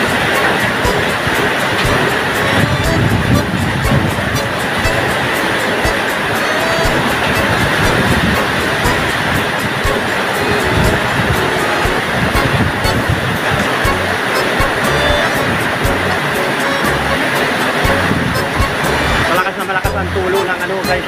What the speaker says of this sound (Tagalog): malakas itong ulan na to, at may hangin pa